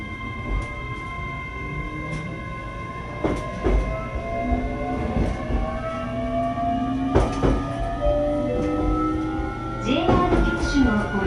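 A JR Kyushu 817 series train set, a car known for abnormal noise, runs along the line. Steady rail rumble carries rising motor whine tones, with periodic clicks and clacks from the wheels.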